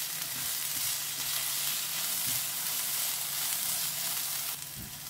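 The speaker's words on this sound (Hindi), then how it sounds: "हमें ना टमाटर सॉफ्ट होने तक हमें इसे कुक करना है" Chopped tomatoes cook in a pan over a low flame, giving a steady, fairly close sizzle with soft bubbling underneath; the level stays even throughout and drops slightly near the end, with no voices.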